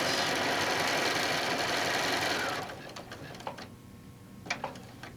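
A sewing machine runs at a fast, steady whir as it stitches around a fabric alphabet letter block, then stops halfway through, leaving a few light clicks and fabric handling sounds.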